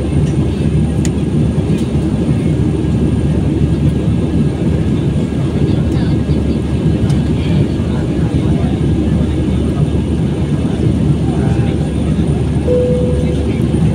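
Steady, loud broadband roar of an airliner cabin in flight, continuous engine and airflow noise throughout with a brief faint tone near the end and no clear talk.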